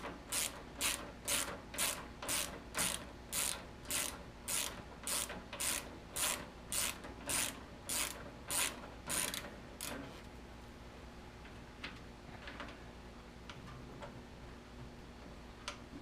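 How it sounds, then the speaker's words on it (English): 12mm socket ratchet removing the lower gas tank bolt on a 1997-2003 Honda Valkyrie motorcycle: about fifteen evenly spaced, close ratcheting strokes for ten seconds, then a few faint clicks and handling noises. "Take a 12mm socket and just take this lower tank bolt out."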